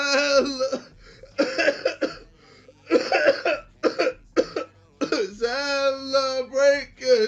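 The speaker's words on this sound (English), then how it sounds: "he acts sick and starts fake coughing" A streamer fakes a run of exaggerated, theatrical coughs and throat-clearing sounds mixed with groaning, whining vocal noises, close and loud, in a played-back stream clip.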